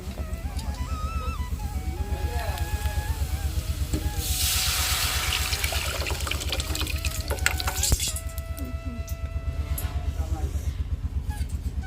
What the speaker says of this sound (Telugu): తాలింపు వచ్చేసరికి బాగా ఎగుతూ ఉంది